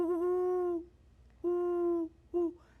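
A person imitates the hoot of a female great horned owl, giving three fairly close hoots, each higher-pitched and steady: two long calls and a short final one, separated by brief pauses.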